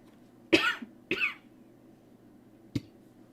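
Two quick coughs close together, then a short single cough a moment later, close and fairly quiet against a low background hum.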